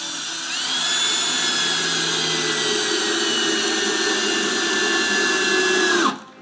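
A power drill drives big screws into the edge of a heavy door to fix the hinges, a loud sustained whine for about six seconds that cuts off abruptly.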